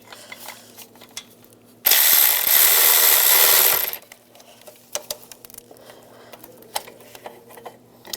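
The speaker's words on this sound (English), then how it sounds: "You could use a 13mm ratchet wrench too." A ratchet with a 13mm socket spins out studs on a 2007-18 Jeep Wrangler ignition coil, making a loud, dense two-second burst of whirring, buzzing clicks, preceded and followed by faint scattered tool taps nearby.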